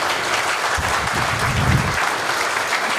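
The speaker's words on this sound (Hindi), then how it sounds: "अरे जोरदार तालियां बनाओ" An audience claps for a few seconds at a lively event, dense and fairly loud, with a slight swell near the middle before the clapping tapers.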